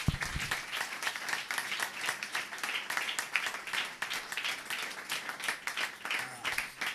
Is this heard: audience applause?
yes